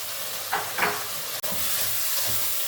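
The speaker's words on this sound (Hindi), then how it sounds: "देख सकते हैं आप सारी चीज़ें जो हैं वो मैंने फ्राई होने के लिए, मिक्स होने के लिए रख दी हैं" Spices and ingredients for beef daal gosht fry in a pot with a steady, close sizzling hiss, broken by a couple of brief stirring scrapes and no talk.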